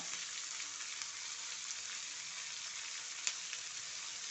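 Onion and tomato sauté in an iron pan, giving a faint, steady hiss of sizzling with one small click near the end, quiet and even throughout.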